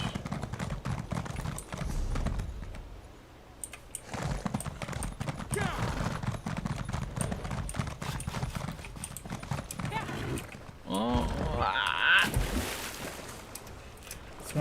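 Horse hooves clip-clop in a steady rhythm inside a video game, moderately loud and continuous, while a person talks over them throughout.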